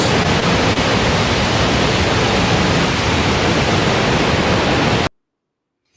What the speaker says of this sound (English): So here are the bottom section that you can get to here at Panther Creek Falls.